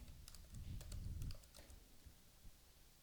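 Faint keystrokes on a computer keyboard while code is typed, a few light scattered taps over a low background hum, with no voice.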